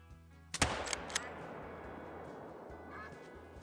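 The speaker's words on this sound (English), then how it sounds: "Let's take a pot shot." A single rifle shot fired at an animal in theHunter: Call of the Wild, one sharp loud crack with a short echoing tail, followed by faint ambient outdoor sound.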